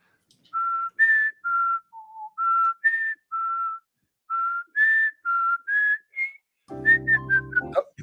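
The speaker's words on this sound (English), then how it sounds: "You can't laugh and whistle at the same time." A person whistles a melodic tune in short separate phrases with brief pauses between them, clear and close; laughter breaks in near the end.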